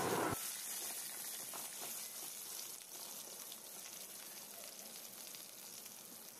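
Potato pieces frying in hot oil in a pan, a soft steady sizzle and hiss that starts abruptly and continues evenly, close and quiet, with no talking.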